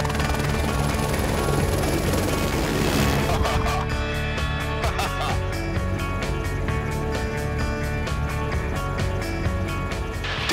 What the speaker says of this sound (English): so now it's time to get on board with pilot Derek Doak and head over the Perth CBD